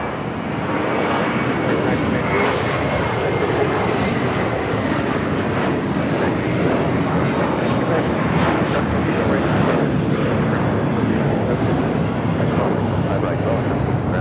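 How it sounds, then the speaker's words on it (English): A JetBlue A321 takes off on the south side at LAX, bound for JFK, a loud, continuous broadband engine roar sustained throughout with a voice talking over it. "Next takeoff here on the south side is a flight heading to JFK, flight 524,"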